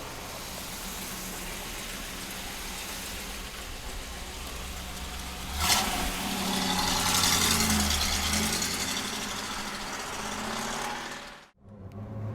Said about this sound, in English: 67 Camaro, 4-speed. Ready to rock and roll, guys. This thing is sweet, sounding sweet, driving sweet.